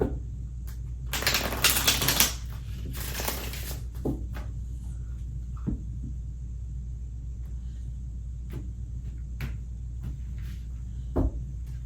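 Tarot cards are shuffled close by in two quick riffling bursts, followed by scattered soft taps and clicks of cards being handled over a low steady hum; no talking.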